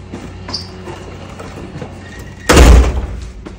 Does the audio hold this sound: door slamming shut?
yes